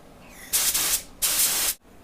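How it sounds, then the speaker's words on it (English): Two quick hissing sprays of cleaner from a spray bottle onto an HVLP spray gun, each lasting about half a second, close by with a short pause between them. "And now I'm going to spray here."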